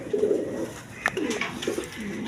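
A pair of pigeons with a chick cooing nearby, soft low coos in short phrases over a quiet background.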